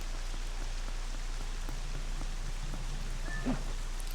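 Steady rain falls in The Legend of Zelda: Twilight Princess, a constant even hiss of raindrops with a low hum underneath and one brief soft tone near the end.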